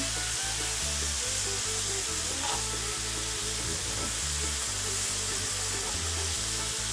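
Butter melts and sizzles with herbs and garlic in a frying pan beside an entrecote steak: a steady, loud, hissing fry that continues evenly throughout, with no one talking.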